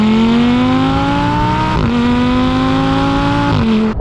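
A 2014 Audi R8 with a 5.2-litre naturally aspirated V10 shared with the Lamborghini Gallardo, 525 horsepower, revving up to 8,500 rpm: loud, close engine howl rising through gears with two quick shift dips, then a sharp cut-off.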